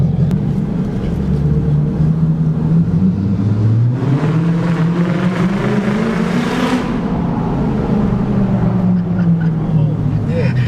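A car engine revs hard in repeated climbing and falling pulls while the driver tries to get a backfire, a loud, close, droning roar with a voice briefly heard over it.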